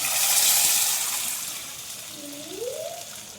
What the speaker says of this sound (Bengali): আদা জিরে বাটাটা দিয়ে দিলাম দেখো আমার এটা একটু ভাজা ভাজা হয়েছে এখন আমি ডালটা দিয়ে দিব আমি দিয়ে দিলাম